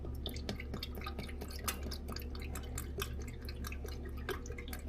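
Motor oil glugs and drips as it pours from a 5-gallon jug into the engine of a 2025 Ford Maverick Hybrid, a faint irregular trickle of splashes over a low hum.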